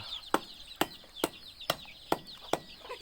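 Chickens in a farmyard coop, a hen clucking in short sharp bursts at a fairly even pace, about seven distinct clucks close to the listener over faint background chirping.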